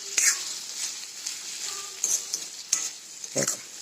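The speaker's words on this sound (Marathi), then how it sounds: "आता बघा शेंगदाण्याचं तूप टाकलं" Soft sizzling as peanut oil is added to a hot iron wok, with scattered scraping and stirring clatters, fairly quiet and close, no voices.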